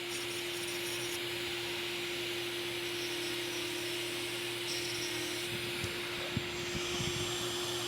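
A rotary tool spins at top speed while contouring a pre-sintered zirconia dental restoration, giving a constant high, hissing whine over a steady hum, with a few short scrapes and clicks toward the end.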